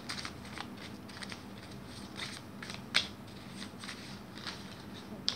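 Tarot cards are shuffled close by in soft, rapid riffling bursts with a few sharper snaps, fairly quiet over a faint room hum.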